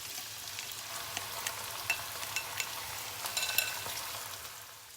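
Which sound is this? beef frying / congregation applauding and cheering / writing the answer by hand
beef frying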